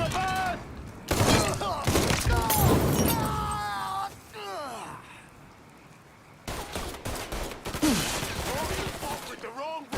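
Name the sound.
gunfire in a shootout, from video game Mafia III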